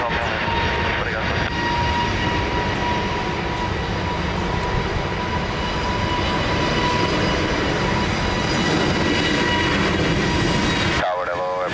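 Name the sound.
airliner taking off from runway 20 at Lisbon Airport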